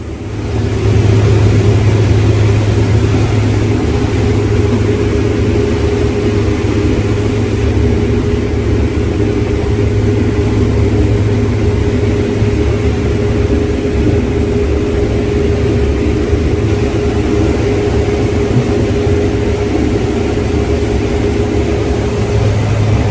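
Heavy engines drone steadily and loudly throughout a corn harvest, with a deep, continuous rumble from the big bitrain grain trucks and harvest machinery and no talk over it.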